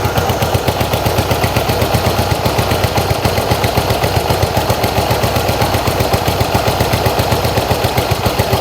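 A Yamaha XS1B motorcycle engine idling loudly and close, a fast steady chugging pulse of exhaust firings that stays even throughout with no voices.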